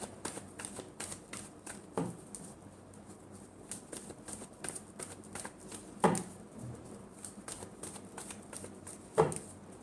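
Tarot cards being shuffled by hand, with soft repeated riffling and flicking close by and a few sharper taps as cards are set down.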